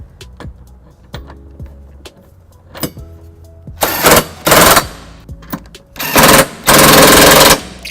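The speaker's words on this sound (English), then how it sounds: "Now that I gotten the bolts tightened down with the cordless socket" Cordless socket tool tightening 19 mm trailer hitch bolts on a 2014 Toyota Highlander, several loud close bursts of buzzing impact rattle with clicks and handling noise between them.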